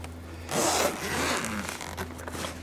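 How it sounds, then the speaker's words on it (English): A zipper is pulled open on the case of a JFEGWO 8250A jump starter, a close scratchy rasp that runs for a couple of seconds in uneven strokes and then tapers off. "as soon as I find the end of the zipper"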